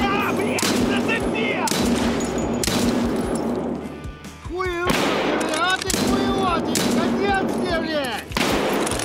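Gunfire in the video game Escape From Tarkov, loud bursts of rapid shots in repeated volleys with sharp attacks, a voice talking between and under the firing.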